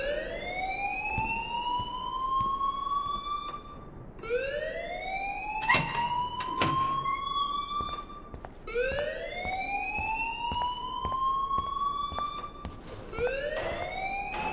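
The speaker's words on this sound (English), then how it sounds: "please turn off that alarm since that's your job" An electronic alarm wails in the video game Life is Strange, a repeating rising siren sweep that climbs for about three seconds and restarts, sounding steadily and fairly loud with brief clicks between cycles.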